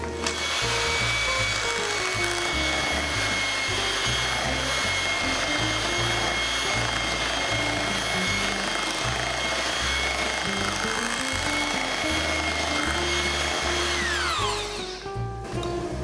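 Cheap $12 electric hand mixer whirring through churro cheesecake batter, a continuous high motor whine with rhythmic beater clatter against the bowl for about fifteen seconds, stopping near the end.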